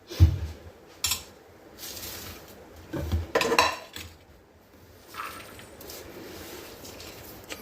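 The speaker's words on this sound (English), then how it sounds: "I need a bigger vessel for mixing." Sweet corn bhel being mixed in a larger vessel: a spoon scrapes and clinks against the metal bowl in scattered, irregular bursts, with soft squishing between strokes, close and fairly quiet.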